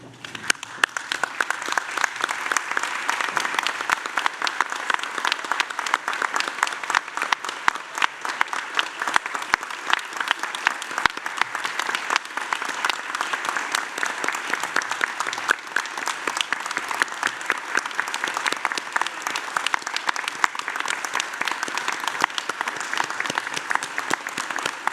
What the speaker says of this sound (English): join me in applauding the wonderful achievement of these graduates